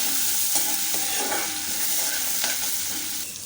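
Ginger and curry leaves fry and crackle in hot oil while a spoon stirs them, giving a steady close sizzle with light scraping strokes and no talk.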